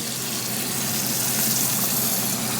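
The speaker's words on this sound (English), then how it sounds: "the broth is gonna go in." Broth pours into a pot roast in a steady, continuous gushing stream, close and moderately loud, with no talking.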